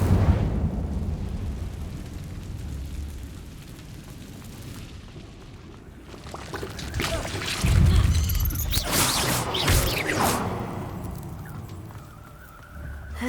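Incendio fire spell cast in Hogwarts Legacy, a whooshing, roaring burst of flame rising around the middle and flaring again a couple of seconds later over a low rumbling game ambience.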